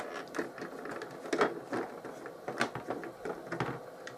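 Small screws are turned out of the base cover of a BigTrak toy, giving soft, close ratcheting and scraping clicks in an irregular run with no talk.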